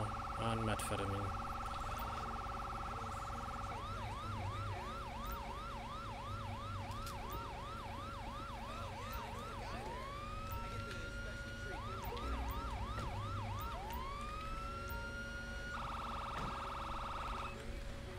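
Police car siren in the LSPDFR game, a rapid wailing yelp cycling repeatedly, then switching to slower rising wails, fairly faint against a steady engine hum.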